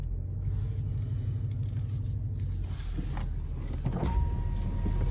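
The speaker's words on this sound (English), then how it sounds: "Put the window down." Power window on a 2021 Bentley GT V8 with a Hotspur interior lowering, a steady electric motor whine over the low rumble of the idling car, heard close and alone.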